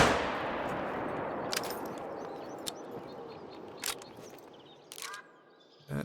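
A single loud rifle shot fired at a whitetail deer about 150 meters away cracks at the very start, then rolls into a long fading echo, with a few faint clicks afterward.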